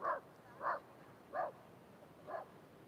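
Dogs bark at an oceanfront spot during an outdoor Saturday morning yoga session, four evenly spaced barks at a steady moderate volume over a faint background hiss.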